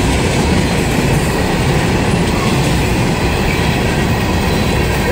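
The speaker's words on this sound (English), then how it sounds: "These ones, look how big these boxcars are. Look at that tanker there." A freight train of boxcars and tanker cars rolls past close by, a loud, continuous rumble with rattling wheel clatter and no pauses.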